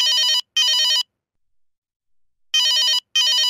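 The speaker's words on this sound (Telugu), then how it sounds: "వాడే ఫోన్ చేస్తున్నాడు." Telephone ringing in a Telugu comedy scene, two loud bursts of a bright electronic double ring separated by a pause of silence, clear and alone.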